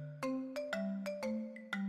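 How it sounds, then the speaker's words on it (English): A short melodic phone notification chime of several bright, evenly spaced tones plays clearly, running about two seconds without speech. "I got a notification"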